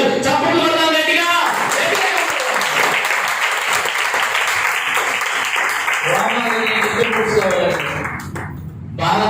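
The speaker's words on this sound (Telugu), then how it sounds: "చప్పట్లు కొడదాం గట్టిగా." A church congregation bursts into loud, sustained clapping that fills the hall for several seconds, with voices rising through it before the applause fades near the end.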